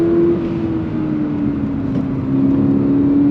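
A 2022 Subaru BRZ sports car engine droning loud and close as it brakes and downshifts on a track, its pitch holding steady then dipping slightly before rising again.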